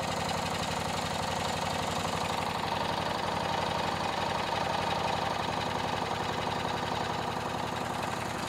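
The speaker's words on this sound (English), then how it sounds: "I'm gonna put the throttle up just a little bit on the idle" A Briggs 1238XL flathead engine on a Toro Wheelhorse lawn tractor idles with the throttle raised slightly, giving a loud, close, steady chugging rumble with a fast, even firing rhythm and no talking.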